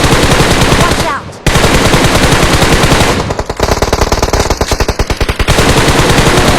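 Automatic gunfire in a shooter video game, loud rapid bursts of machine-gun fire with a short gap, then fast rhythmic shots continuing to the end.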